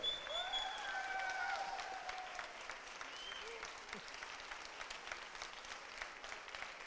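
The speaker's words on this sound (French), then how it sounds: "Je vous demande d'accueillir et d'applaudir Pierre Hermé." An audience at the Salon de la Pâtisserie 2018 applauds to welcome pastry chef Pierre Hermé, with steady, moderately distant clapping from a crowd and a few faint tonal sounds early on.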